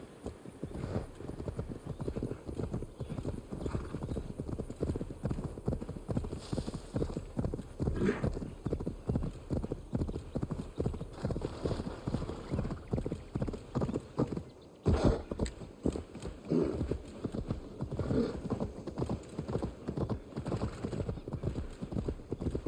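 A horse's hooves clip-clop steadily in the video game Assassin's Creed Valhalla near a river, a brisk rhythmic trot that goes on for over twenty seconds with a brief pause midway and an occasional whinny.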